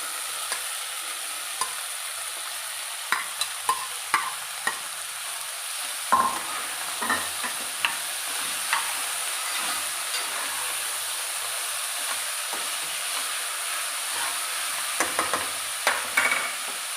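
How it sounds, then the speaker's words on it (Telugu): Small tomatoes cook in a pan for a cabbage, potato and tomato curry, a soft continuous sizzle and steam hiss under repeated spoon scrapes and taps against the pan, close up with no talking. "టమాటాలు చిన్నవి రెండు వేస్తున్నానండి కొంచెం మగ్గాక క్యాబేజీ వేసుకోవాలండి"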